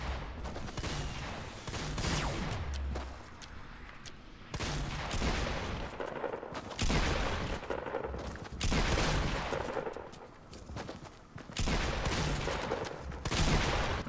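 Gunfire in a 50 vs 50 Fortnite match on Nintendo Switch, several distinct bursts of rapid shots separated by short pauses, moderately loud with a steady background underneath.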